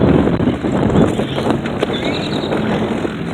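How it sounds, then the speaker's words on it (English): Heavy wind buffets the microphone during a bicycle ride, a loud, continuous rumbling roar with gusty swells and no voices. "Really windy out here."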